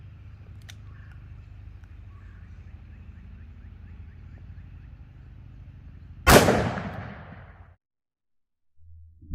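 .357 Magnum fired from a 4-inch Ruger GP100 revolver into ballistic gel: after a low steady background hum, a single loud, sharp gunshot cracks and decays quickly, followed by near silence.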